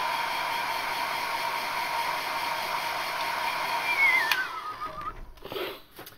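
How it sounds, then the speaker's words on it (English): A hair dryer runs close and steady with a constant whine and airy rush, then it is switched off and winds down with a falling tone before a few handling sounds. "Hair dryer time, 1 second."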